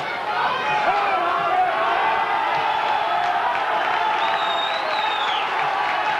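Rugby league crowd at a Widnes match against St Helens, a steady roar of cheering, whooping and scattered applause from a large stadium audience, continuous and moderately loud throughout with distant voices mixed in.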